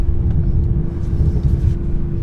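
A 2025 Bentley Continental GT Speed cruising over a mountain pass gives a steady, dense low rumble with a constant engine hum and soft rushing air, even and unbroken throughout, with nobody speaking.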